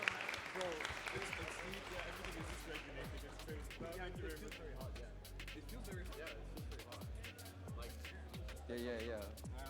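Audience applause at a catch tournament grand final: steady, dense clapping runs the whole stretch, mixed with ongoing talk and rhythmic low thumps.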